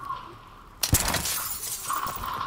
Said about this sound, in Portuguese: Já quebrei um vidro